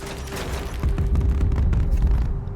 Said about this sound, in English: Just move towards the explosions.